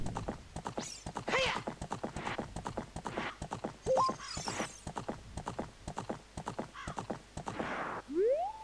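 Horse hooves clip-clopping in The Legend of Zelda: Ocarina of Time (Ship of Harkinian, Wii U), a brisk, even run of sharp hoofbeats, punctuated by a whinny and a short rising game tone near the end.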